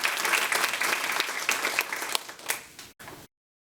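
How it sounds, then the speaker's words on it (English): Audience applause at an Arlington ISD school board meeting, a dense burst of clapping lasting about three seconds before cutting off abruptly. "Let's give them a round of applause."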